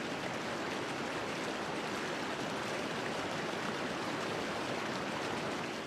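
Water from a mountain spring near a village in the Alamut area of Qazvin flows in a continuous, even rush, close and fairly loud, with no break or voices.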